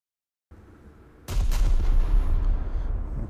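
A battleship gun salvo fires in a naval combat game, HMS Rodney against Scharnhorst: a faint thud, then a loud, heavy boom that rolls into a sustained deep rumble, alone and close.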